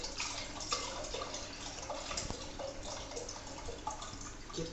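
Chicken stock pours from a container into a cooking pot in a kitchen, a steady splashing and dribbling stream with a few drips standing out, close and continuous with no voices.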